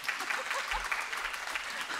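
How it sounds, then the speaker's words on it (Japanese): An audience claps after a song at a concert, a moderate, steady patter of applause that continues without pause. "拍手が起こっております。"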